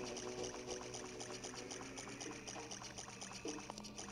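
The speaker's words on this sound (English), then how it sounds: "There must be a source of the water on this floor." Steady flowing, trickling water on a flooded dungeon floor in the video game The Legend of Zelda: Ocarina of Time, a faint continuous wash with soft game tones layered over it.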